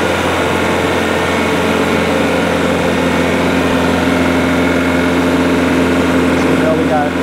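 A Bobcat engine revs up and holds at full RPM with no load on it, giving a loud, steady, droning roar with a constant hum beneath it from start to finish.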